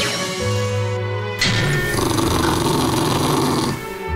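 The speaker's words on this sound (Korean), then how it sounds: "갑자기 으르렁거리는 마요." A pet dog indoors at home growls low and rough, loud and close, for a few seconds with no talking. A brief tonal sound comes just before it.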